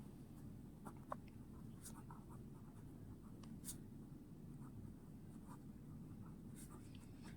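Pen scratching on paper while numbers are written out for a class 6 maths lesson, faint and close, in soft irregular strokes over quiet room noise.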